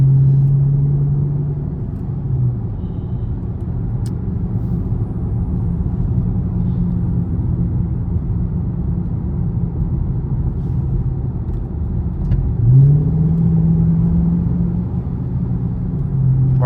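A Dodge Charger R/T driving at night gives a continuous deep exhaust rumble from inside the cabin, with a brief rev early on and another engine surge near the end.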